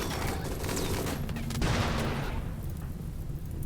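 Sustained gunfire in the video game Rimworld, a dense, noisy clatter of overlapping shots during a pirate base raid that runs steadily throughout and thins toward the end, with no voices over it.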